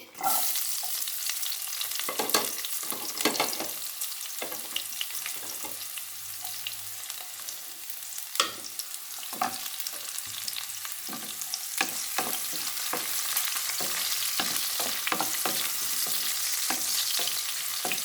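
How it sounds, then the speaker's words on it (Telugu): Onions fry in a pan for stuffed brinjal curry, a steady soft sizzle punctuated by repeated scraping stirs of a spatula, close and fairly quiet with no talking. "ఆనియన్ బాగా వేగాలి."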